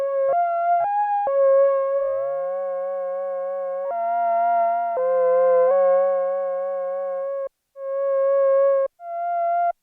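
A synthesizer string patch holds sustained notes tuned to a third, two pure harmonic tones sounding together with smooth glides and shifting pitches, clean and upfront, ending in short separate bursts.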